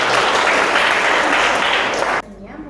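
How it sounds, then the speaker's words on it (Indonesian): Audience applause at a lecture on CPR, a dense, steady burst of clapping filling the room, then cutting off abruptly near the end. "Tepuk tangan lagi."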